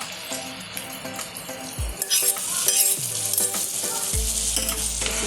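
A spoon stirs restaurant-style dal fry in a hot pan, with steady sizzling and frying under repeated metal scrapes and clinks against the pan, loud and close with no voices.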